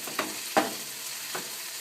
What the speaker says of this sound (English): So just kind of stir it around in here. Making sure that the broccoli gets coated all around.